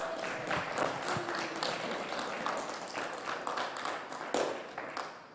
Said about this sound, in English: your podium for round 1 for Touring Cars, Season 3. Give them a round of applause.